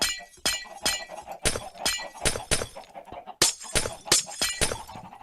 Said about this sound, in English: Take out these glass blocks.